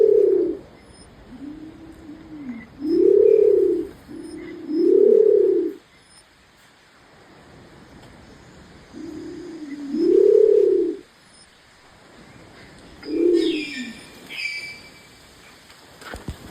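A Nicobar pigeon cooing nearby in deep, hollow, mournful phrases that come in spaced bursts of two or three notes, with quiet gaps between them and faint background ambience.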